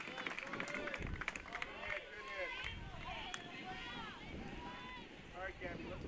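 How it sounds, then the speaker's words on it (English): Gusty wind buffets the microphone at an outdoor softball game, rumbling in uneven bursts beneath steady commentator talk. "Wind's been kind of gusty today."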